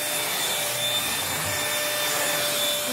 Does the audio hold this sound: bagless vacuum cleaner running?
yes